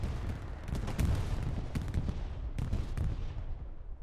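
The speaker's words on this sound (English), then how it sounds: "Bombing run's coming in." Bombing run explosions in the Company of Heroes video game on the Foy map, a dense rumbling barrage of blasts and booms rolling continuously over a few seconds, loud and close.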